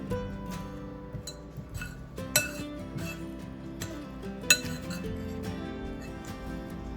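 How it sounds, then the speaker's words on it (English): Cheese ball ingredients, including onion and celery, are mixed in a large bowl, with scattered clinks and knocks of a utensil against the bowl and a couple of sharper taps over a low background hum. "Miss Katie's blending it all together there now in this large mixing bowl."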